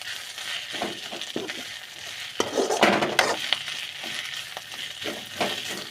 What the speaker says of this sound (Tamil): கீரை மட்டும் கொஞ்சம் நல்லா எண்ணெய் கொஞ்சம் சேர்த்தே ஊற்றி நல்லா வணக்கிக்கோங்க